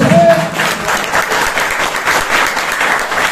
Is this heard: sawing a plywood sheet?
no